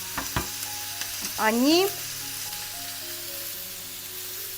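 Vegetables and duck breast stir-fry in a wok, a soft, steady sizzle broken by a few sharp clinks and a short metallic scraping sweep, with low background hum.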